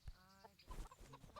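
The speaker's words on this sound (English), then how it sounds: "Chickens." Chickens clucking in the medieval village of Rattay in Kingdom Come: Deliverance, a few short clucks from nearby fowl at low level with no talk.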